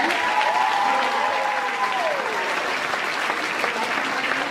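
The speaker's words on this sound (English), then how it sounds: "Round of applause, please, so far." Audience applause at a live event fills the room as a steady, dense roar of clapping from start to finish, with a faint sustained tone sliding beneath it.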